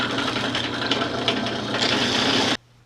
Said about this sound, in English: This process of barrel trimming just trues the end of the brass tube to the end of the blank